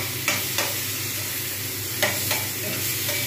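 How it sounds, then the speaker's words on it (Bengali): Onion paste frying with pointed gourd in a pan sizzles steadily while a spatula scrapes through it in a few distinct strokes, close and clear, with no talking. "পটল ভাজা হয়ে গেছে, এবার আমি এর মধ্যে পেঁয়াজ বাটাটা দিয়ে দেবো।"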